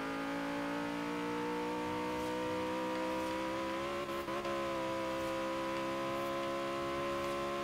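In the Forza Horizon 3 racing game, a car's engine holds a smooth, steady drone as it accelerates at high speed, heard fairly quietly and alone with a slight wobble in pitch midway.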